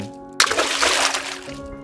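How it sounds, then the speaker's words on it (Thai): A sudden loud splash of water being thrown across a room in a children's story, bursting in after a brief quiet and sloshing off over a steady soft musical tone. "เขาสาดน้ำจนเปียกทั่วทั้งห้อง"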